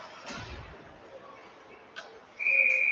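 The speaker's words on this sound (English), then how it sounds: "Oregon gets possession and the whistle is blown." A referee's whistle blows sharply during a college ice hockey game between UW and Oregon, a single sustained shrill tone cutting through the muffled arena crowd near the end.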